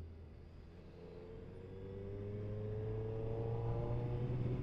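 A 2023 Suzuki Hayabusa motorcycle rumbles along during a ride, its engine tone rising gradually as it speeds up, heard fairly quietly through wind and road noise.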